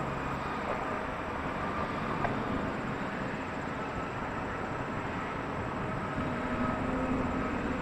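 A jet airliner climbing away from a runway at Toronto Pearson airport, a steady broadband engine roar that stays loud and constant throughout, heard from a distance outdoors.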